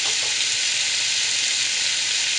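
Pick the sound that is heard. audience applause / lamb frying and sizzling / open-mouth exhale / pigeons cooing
lamb frying and sizzling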